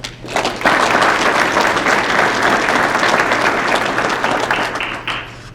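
Audience applause for award recipients at a Border Patrol class graduation: loud, dense clapping swells in quickly, holds steady for several seconds, then tapers off at the end.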